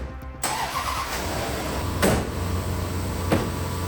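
A Land Rover LR4 engine cranks and catches after a short quiet pause, then settles into a steady low idle. Two brief knocks or clunks stand out over the running engine, with no talking.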